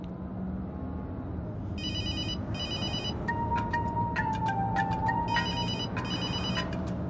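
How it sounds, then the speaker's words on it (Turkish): A telephone rings repeatedly with bursts of electronic ringtone trills in a steady on-off pattern, fairly loud over a low hum of background noise, with no one talking during the ringing. "Açsana telefonunu."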